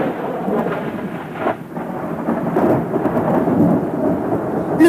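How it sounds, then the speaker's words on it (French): A storm with thunder and rain at sea at nightfall, steady broadband rumble of thunder and falling rain rolling on throughout, fairly loud with swelling bursts and no voices. "Et quand la nuit tomba, la tempête se leva."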